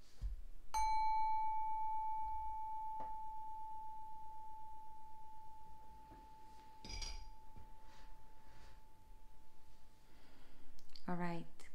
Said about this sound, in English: I'm going to ring this bell that's connected to your 3rd eye chakra 1 more time